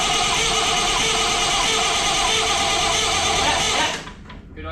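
A restored Massey Ferguson 1200 tractor's diesel engine runs loud and close at first start-up, a steady rattling, clattering drone that suddenly drops away near the end as it cuts out.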